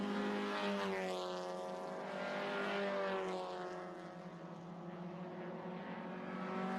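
Race cars at Winton circuit during a Victorian State Race Series round sweep past with loud engine drones, harmonic tones rising and falling as they pass close by, a continuous roar without pause.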